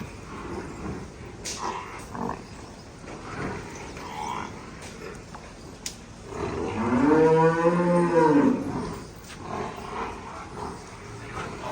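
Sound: water buffalo lowing

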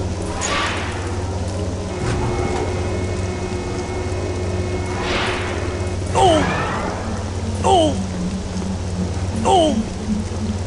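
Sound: rain in the video game Star Wars Jedi Knight: Jedi Academy

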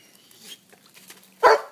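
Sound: dog

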